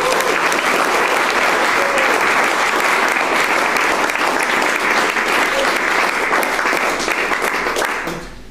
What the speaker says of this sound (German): Einen herzlichen Applaus bitte